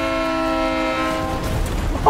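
A train in the Medal of Honor VR game sounds a loud, sustained horn that fades into rumbling rail noise and clatter as it passes close by.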